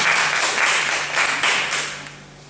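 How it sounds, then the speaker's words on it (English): Audience applause at a talk about homophobic violence and freedom of love, a steady wash of many hands clapping that swells and eases in waves over a couple of seconds before fading slightly. "Applause for her."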